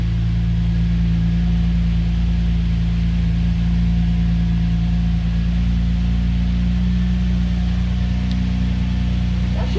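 A 2003 Nissan Maxima's engine runs steadily with a worn exhaust, giving a continuous low droning hum close by, with no clear revving and no talk.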